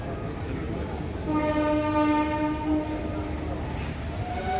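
A train horn sounds steadily for over a second at a railway station in Baramati, with loud rumbling engine noise and station bustle throughout.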